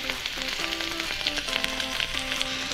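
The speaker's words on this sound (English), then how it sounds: "Look at that sizzle" Sweet Earth Mindful plant-based chicken pieces sizzle steadily in olive oil in a hot pan, a dense, even crackling hiss close by, with faint tonal sounds behind it.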